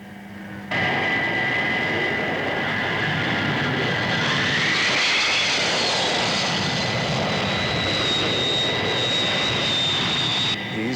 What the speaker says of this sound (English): Undercut down. Flaps down. Banking for final approach.